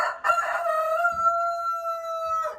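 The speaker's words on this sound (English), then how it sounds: "And then I have the rooster that's on the roof." A single long rooster crow, loud and close, with a clipped opening and a sustained drawn-out tone before trailing off.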